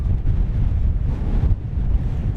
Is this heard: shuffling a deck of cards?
no